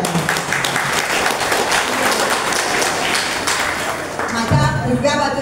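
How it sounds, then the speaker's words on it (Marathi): A seated audience claps steadily and densely at a Chaturmas seva music program at Shri Sansthan Kavale Math in Walkeshwar, Mumbai. The applause fills the room at an even level, and a voice begins speaking near the end. "टाळ्या टाळ्या जोरात टाळ्या."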